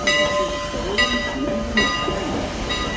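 A steam locomotive, number 89 on the Strasburg railroad in Pennsylvania, hisses loudly and steadily close by, with its bell ringing in regular strokes above the rumble.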